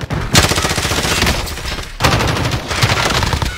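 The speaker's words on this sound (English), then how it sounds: "Once I play it up, I'm gonna shoot at him." Gunfire in a Call of Duty multiplayer match: loud, continuous bursts of rapid automatic shots, broken by a brief pause near the two-second mark before the firing resumes.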